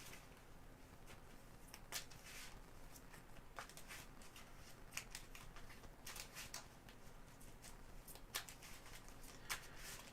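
Cards being shuffled for a Marvel Champions card game session, soft quiet riffling and flicking bursts repeating across the stretch, close but faint with no talk.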